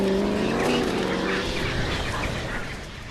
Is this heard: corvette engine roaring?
yes